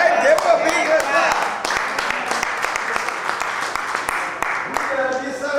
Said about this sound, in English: Give up, big hand clap.